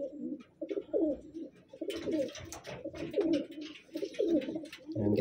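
A pigeon hen coos in a close, soft series of repeated throaty calls with short pauses between, with light rustling in the background.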